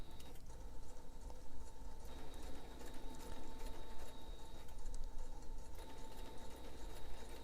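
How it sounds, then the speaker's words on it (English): A sewing machine runs steadily along a quarter-inch seam across a zippered pouch, giving a continuous, even mechanical whir and rapid needle ticking that holds throughout without speech. "We'll sew the 1/4 inch seam allowance all the way across from one end to the other."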